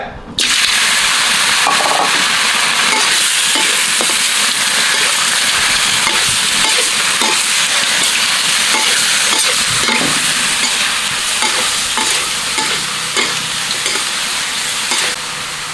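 Loud, continuous sizzling of pork belly frying in a hot pan without oil as its fat renders, with occasional scraping stirs and crackles, close up and steady.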